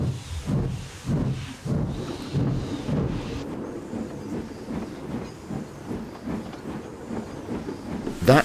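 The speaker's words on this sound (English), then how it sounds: "Just then thunder echoed in the distance." Distant thunder in stormy weather, low rolling rumbles that swell and fade in waves, with a hiss over them and a sharp louder burst at the very end.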